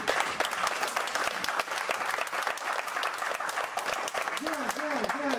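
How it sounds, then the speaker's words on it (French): A church congregation applauds in a steady, dense wash of clapping, with a voice speaking over it near the end. "Oh, applaudissez pour cet héros."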